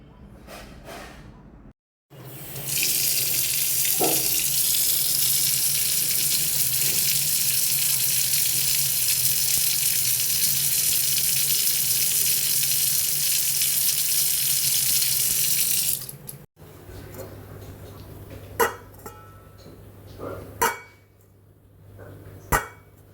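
Kitchen tap running steadily into a sink while mutton pieces are washed for Kabuli pulao, a loud continuous water rush lasting over ten seconds, followed by quieter clatter and a few sharp knocks.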